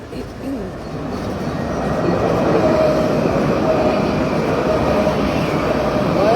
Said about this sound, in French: Le tramway est blindé comme une sardine.